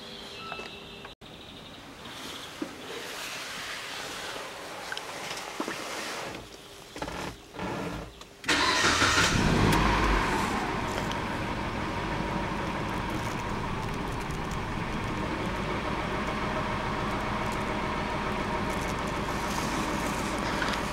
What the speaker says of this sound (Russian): Сейчас заведу автомобиль. И уже посмотрим, как он работает на холостых троит.